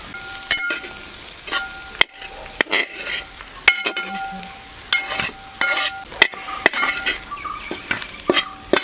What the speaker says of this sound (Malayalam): നന്നായിട്ട് ഇളക്കി യോജിപ്പിച്ച് കൊടുക്കണം ഇതെല്ലാം കൂടി.